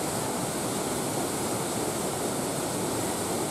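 A waterfall in Cairns pours down in a steady, dense roar of falling water that stays loud and constant throughout, with no voices.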